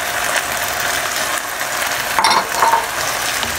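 Fried tofu and kangkong sizzle in a pan while being stir-fried, giving a steady hiss close by. A few brief scraping clatters come from the utensil stirring the greens.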